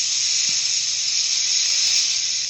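A shower sound effect on a Yamaha P-515 digital piano gives a steady, bright hiss of spraying water that runs evenly and stays the same loudness throughout.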